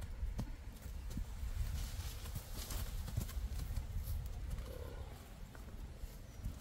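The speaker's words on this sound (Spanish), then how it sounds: "Ya me invadieron los caballos, miren." Horses wander close by outdoors, their hooves clip-clopping in scattered, irregular steps over a steady rough background noise.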